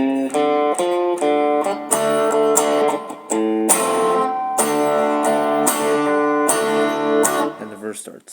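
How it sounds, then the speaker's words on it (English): Electric guitar playing the main riff of a song, a run of sustained, ringing notes and chords in steady phrases, loud and close with no talking over it. "the main riff, which sounds like this"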